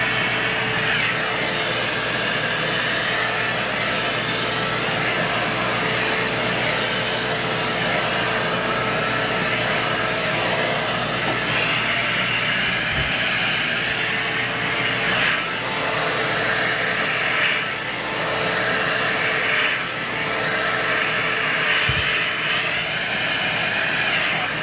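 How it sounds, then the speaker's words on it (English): A hair dryer blows continuously at close range during a SilkOut smoothing treatment while hair is stretched and dried, a loud steady whoosh with slight shifts in pitch as it moves around the head. "I'm stretching and drying at the same time."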